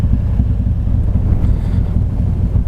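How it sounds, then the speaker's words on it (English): Strong wind buffets the microphone during a motorcycle ride on a cleared, dry day, a steady loud low roar that rumbles on without a break. "The weather has cleared. It's very windy. Very windy indeed."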